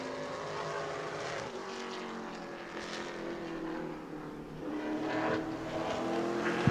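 A Pro Late Model stock car on a qualifying lap at New Smyrna Speedway, its engine droning steadily from a distance, then growing louder near the end.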